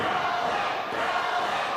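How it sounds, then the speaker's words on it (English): A wrestling crowd at a PPW event chants for Nolan Pierce, a dense, loud roar of massed voices filling the arena without pause. "listen to this crowd here, chanting for Nolan Pierce"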